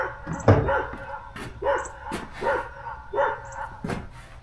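Dogs bark on a morning lawn in a repeated rhythm of about four rough barks, spaced roughly a second apart, moderately near with no talk over them.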